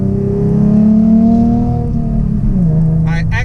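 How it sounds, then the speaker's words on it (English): A 2012 Ford Mustang 3.7L V6 Transformers Edition with a Roush exhaust revs and settles back down, its engine note steady and close, with a brief burst of crackle near the end. "listen to the crackles and pops. That's what I love about the Roush exhaust over the MagnaFlow."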